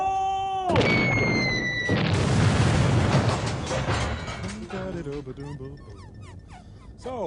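A loud movie explosion bursts out at about two seconds and rumbles on for several seconds, with music and voices around it.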